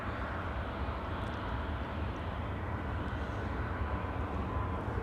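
A DC-3 piston airliner rolls down the runway at Anchorage on its takeoff run, its engines giving a steady, broad rumbling drone that carries at a distance through the whole stretch, with no talk.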